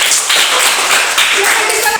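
Children in a classroom clap their hands together in a dense, steady burst lasting about two seconds, with faint voices mixed in.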